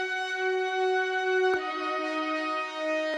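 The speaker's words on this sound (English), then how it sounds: "Then we've got this second brass layer." A sustained brass layer from an FL Studio beat holds steady tonal chords alone, with a sharp accent and slight shift in the harmony about halfway through.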